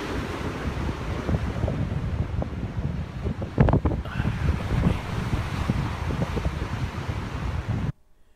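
Ocean waves surge in a steady, continuous roar, thick with wind buffeting the microphone, and cut off abruptly at the end.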